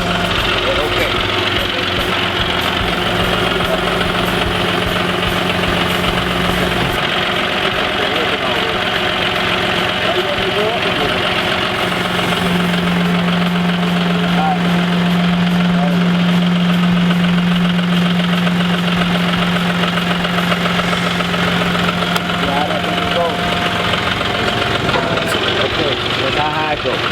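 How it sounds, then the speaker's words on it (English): A tractor loader's engine idles steadily and evenly with a low, knocking rumble while its bucket is raised. The sound runs continuously, close by, as a man gives instructions over it. "I'm going to show our student how to get the bucket up. This lever right here, picks your bucket up."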